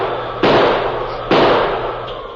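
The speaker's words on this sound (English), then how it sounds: "he pulled the heavy 6-gun from under his mackinaw and began firing." Two loud gunshot-like bursts from a heavy six-gun revolver in an old-time radio Western drama, about a second apart, each a sharp crack with a decaying tail, with no talking.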